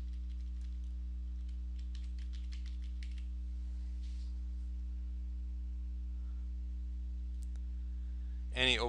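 Typing on a computer keyboard while working in Microsoft Word, a quick run of light clicks for about three seconds, then a few scattered taps over a steady low electrical hum, with a brief voice at the very end.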